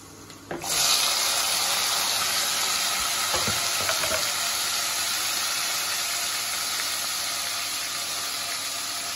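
Tomatoes drop into hot oil in a home-kitchen pan and set off a sudden loud burst of sizzling, which settles into a steady, close, hissing fry that lasts to the end.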